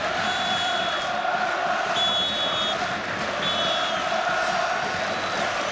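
A large stadium crowd roars steadily at a football match between Japan and Jamaica, a dense sustained wash of cheering with a few faint whistle-like tones rising above it.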